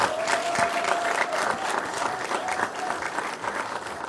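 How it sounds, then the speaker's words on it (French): A standing audience at a Pan-African prize ceremony applauds the first laureate, a full, sustained round of clapping with a faint tonal hum underneath and a few louder individual claps standing out. "je vous demande de vous mettre debout pour recevoir les applaudissements"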